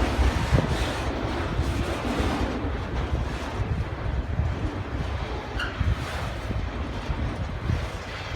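A train on the line approaches as a broad low rumble, with wind buffeting the microphone throughout; the sound stays fairly steady and moderately loud without distinct horn or clatter.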